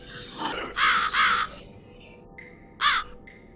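A crow in the video game The Cat Lady caws harshly, two rasping calls in quick succession, then a single caw after a pause, loud and close.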